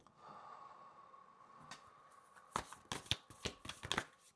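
A tarot deck is shuffled by hand after a quiet start, a cluster of crisp, close riffles and card slaps coming in quick irregular bursts, with faint breathing beneath them.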